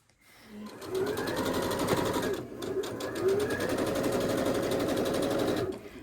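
A sewing machine stitches a quarter-inch seam on a quilt with a quarter-inch foot. After a brief start, its motor runs as a loud, steady, rapid whirring drone for about five seconds, with a short dip midway, before it stops.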